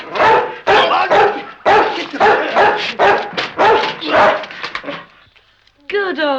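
A dog barks in loud, rapid bursts up close, a string of sharp woofs with short gaps, then a pause and a higher yelping whimper at the end.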